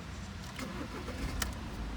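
A Seat Exeo 2.0 diesel with automatic transmission idles steadily nearby, a constant low rumble with a faint mechanical whir and no voices.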